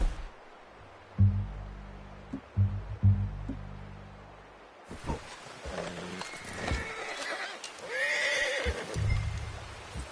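A horse whinnies loudly in a game scene, preceded by heavy hoof thuds and clip-clop, with quieter ambient sounds beneath.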